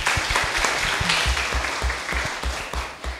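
Audience applause at an Indonesian talk, a sustained burst of clapping with sharp hand strikes over steady crowd noise, fairly loud and close, no speech over it.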